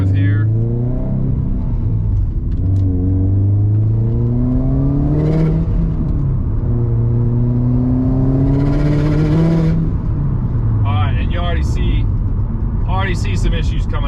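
Subaru WRX STI S209 running E85 with a Cobb flex fuel kit, engine climbing through rising revs in several pulls with audible gear changes, loud inside the cabin, with turbo whooshes as well as talk at times.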